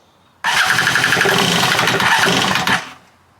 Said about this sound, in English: now we're going to see if it will start and run like it's supposed to